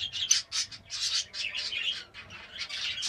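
Lovebirds in a breeding box give a rapid run of high, shrill chirps and squawks, close and continuous, with no talking.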